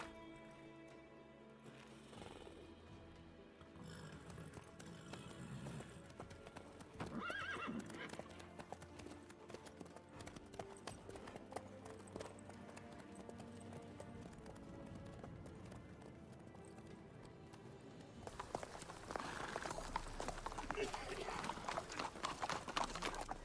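A horse gallops in The Witcher 3: Wild Hunt, quick rhythmic hoofbeats running continuously amid game music and ambience, with a whinny and swelling louder noise toward the end.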